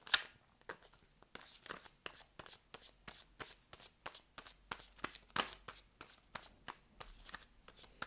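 Tarot cards are shuffled by hand in quick, rhythmic riffles, around twenty crisp papery bursts close to the microphone with brief gaps between them.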